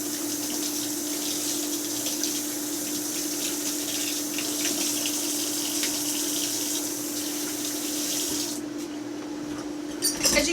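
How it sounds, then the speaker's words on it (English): Water runs steadily from a tap in an RV while hands are washed. The rushing, hissing flow is continuous and close, then cuts off near the end with a few small clatters. "I'm going to wash my hands real quick."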